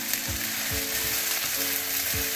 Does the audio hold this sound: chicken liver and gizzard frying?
yes